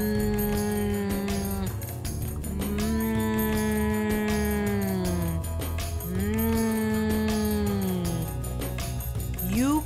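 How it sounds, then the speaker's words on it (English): A voice hums steadily over a dense musical backing, sliding between long sustained tones with brief pauses, loud and continuous throughout. "humming sounds like this"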